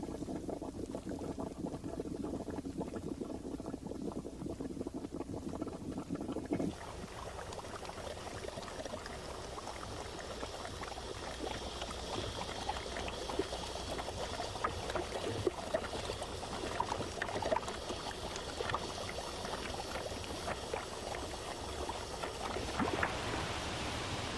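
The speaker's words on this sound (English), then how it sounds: "A mud pot forms on top of this type of fumarole." Mud pot atop a fumarole in Yellowstone, bubbling and gurgling continuously with a soft hissing rush, moderately near and steady for the whole stretch, a louder burst of sputtering partway through.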